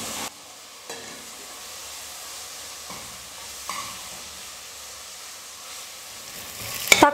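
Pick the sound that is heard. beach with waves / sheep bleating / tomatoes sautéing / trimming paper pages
tomatoes sautéing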